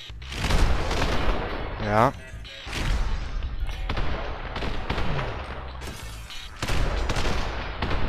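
Rapid gunfire bursts and booming shots from the top-down action game The Hong Kong Massacre, loud and repeated in clusters throughout, with someone talking briefly over the shooting.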